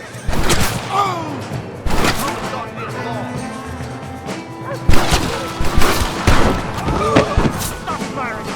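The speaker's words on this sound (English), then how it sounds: "Stop firing your shots." Western shootout in Red Dead Redemption: sharp gunshots crack out in scattered bursts, some close and loud, mixed with thuds and impacts while voices shout over the fight.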